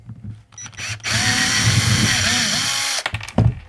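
A cordless power drill whirs steadily for about two seconds while undoing screws at an awkward angle, its motor note dipping slightly under load, with short clicks and handling noise before and after.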